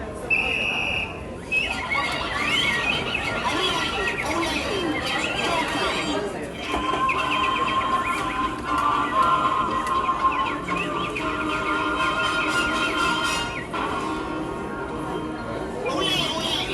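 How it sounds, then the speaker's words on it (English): Animatronic Tiki Room birds perform at a Disney exhibit, a busy mix of chirping bird calls and music carrying over crowd chatter, with voices talking throughout. "we saw a performance by some of the Tiki Birds"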